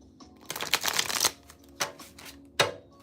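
Tarot cards riffle and slap together in a close, crisp burst of shuffling, followed by two short separate snaps as cards are picked up and handled.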